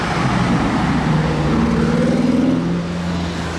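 Pagani Turbo GT exhaust roaring close by, a short rising engine note with rapid pulsing over a steady rumble, easing slightly at the end.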